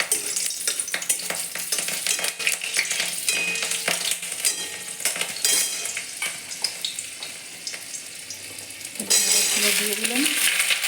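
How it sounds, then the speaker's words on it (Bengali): Two chillies spit and crackle in a hot wok, a dense, steady sizzle with sharp pops close by, continuing loudly throughout with no voices. "কড়াইয়ের মধ্যে দুটো লঙ্কা দিয়ে দিলাম।"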